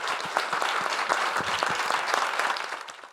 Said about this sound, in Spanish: les pido un aplauso a los colaboradores ponentes